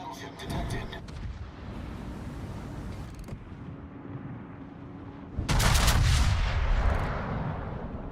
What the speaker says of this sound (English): Let's see what these salvos will do.